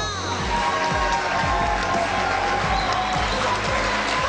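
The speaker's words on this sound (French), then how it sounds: "Mesdames, messieurs, maximum d'applaudissements pour Franck Issa." An audience applauds and cheers the winner, Franck Issa, at the final of the Airtel Trace Music Star 2016 singing competition: loud, continuous crowd noise over a steady thumping beat.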